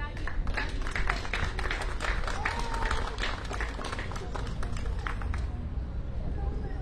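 Sustained applause from a crowd at an outdoor political campaign rally in Charentsavan, Armenia, dense clapping throughout with some crowd noise, fairly loud and close.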